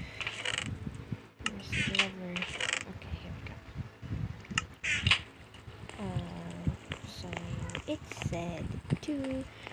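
A lever clicks and mechanical gears grind in a Minecraft horror map, short clunks and rattles mixed under a person talking throughout.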